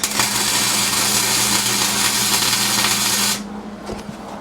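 A Hobart Handler welder lays tack welds on a cut-down Jeep Grand Cherokee, making a loud continuous crackling hiss over a low hum for about three seconds before cutting off into quieter room noise.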